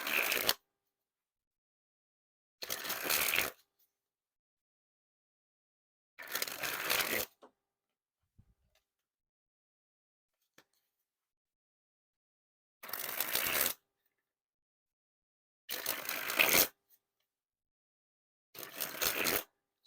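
Misc Good Co playing cards, a thicker card stock, sprung from hand to hand in six quick riffling bursts of a second or so each, crisp and close, with silent gaps between.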